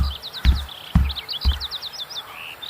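A small bird chirps in quick, bright runs of short repeated notes, near and clear, broken by three soft low thumps.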